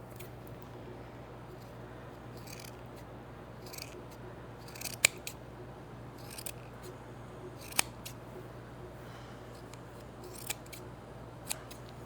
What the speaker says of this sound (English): we're going to cut it right in the center